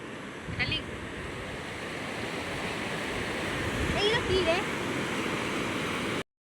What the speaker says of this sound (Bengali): রাতে সমুদ্রটা বেশি সুন্দর বল।